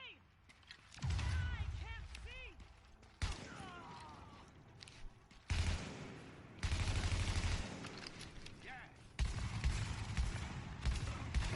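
Gunfire in the video game The Division, several bursts of rapid shots separated by short pauses, fairly loud, with other game sounds between the bursts.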